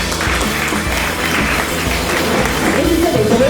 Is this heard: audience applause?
yes